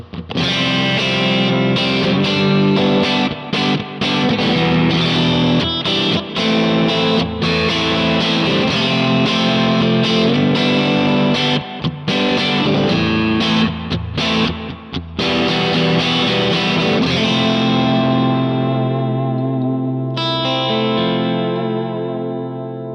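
Heavily saturated electric guitar through a Kemper Soft Shaper in front of the amp plays continuous overdriven chords and riffs, thick and loud, ending with a sustained ringing chord.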